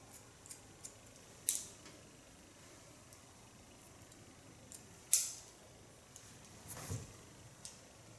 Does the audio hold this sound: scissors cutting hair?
yes